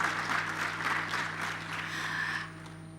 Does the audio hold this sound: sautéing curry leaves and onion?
no